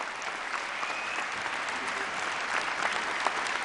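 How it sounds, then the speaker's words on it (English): Steady, dense applause from an audience at a mayoral inaugural address in Philadelphia, continuous and fairly loud throughout with no pause. "Give Darrell Clark a huge round of applause."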